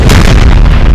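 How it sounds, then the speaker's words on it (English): A 6-pound artillery piece fires in the Napoleon: Total War video game, a single very loud, booming blast that fills the entire short moment with heavy low rumble and no talking. "Got another artillery crew. 6-pound here trying to cover this assault as well."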